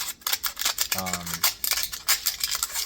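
Tin snips slice open stainless steel heat-treating foil wrapped around a 440-C blade, giving a run of crisp metallic snipping and crinkling cuts close by, with a brief tonal squeak midway and faint talk underneath.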